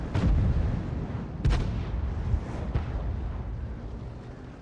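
Artillery cannon fire in a video game: three heavy booms at roughly one-second-plus intervals, each a sharp blast trailing into a rumbling decay over a continuous low background roar.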